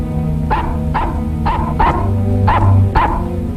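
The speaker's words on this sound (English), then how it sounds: "What the dickens are you barking at?" A dog barks sharply and repeatedly, about six loud barks spaced roughly half a second apart, heard close over a steady low background hum in an old radio mystery drama.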